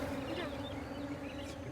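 Bees buzz close by in an African honey-gathering setting, a steady, droning hum with a constant pitch that runs through the whole short moment, with no voices.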